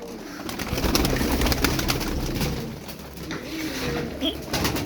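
Domestic pigeons, including a smoky-coloured male, coo in low repeated throaty calls close by, with a busy background of other birds and voices under them.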